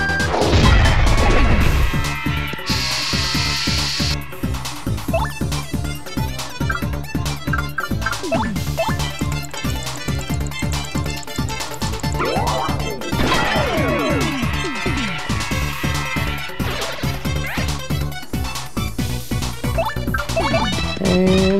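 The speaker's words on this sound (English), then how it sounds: "This is why we use the Quake Hammer." Quake Hammer slamming the ground in Paper Mario: The Thousand-Year Door, loud crashing impacts over continuous game music and effects, with a heavy burst near the start.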